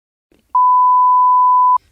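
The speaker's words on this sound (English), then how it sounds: "So we'll have that beeped out." A lone censor bleep, a pure steady tone of a bit over a second, cuts in loudly over near silence to cover a spoken answer on a football quiz.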